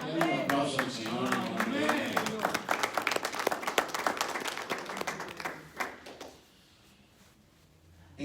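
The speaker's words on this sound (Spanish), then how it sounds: "Denle un aplauso al Señor" Applause from a church congregation builds into a burst of scattered clapping over several seconds and then fades out, with voices mixed in.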